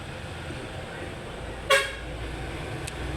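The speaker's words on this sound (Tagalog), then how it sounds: "Marami pa pong nadaan ng mga sasakyan kahit hating gabi na." A single short car horn toot rings out over the steady wash of vehicles passing on a road at night, with the traffic noise continuing after the honk.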